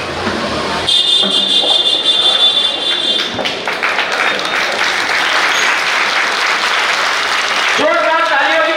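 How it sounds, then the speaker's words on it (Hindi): A crowd at a Congress party political meeting applauds to welcome a young mayoral candidate, with loud sustained clapping over several seconds, some thumps, a tonal buzz early on and voices mixed in. "जोरदार तालियों की करते ध्वनि से हमारे युवा प्रत्याशी का स्वागत"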